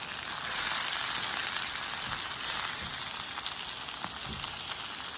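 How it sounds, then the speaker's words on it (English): Apples sear in a hot skillet with a loud, continuous sizzle and a few faint scrapes, heard up close with no talking. "we're just searing the apples in here"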